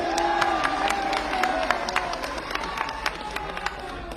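A rally crowd at a public meeting in Pilibhit addressed by Defence Minister Rajnath Singh claps in scattered, uneven bursts, with crowd murmur and a voice near the start.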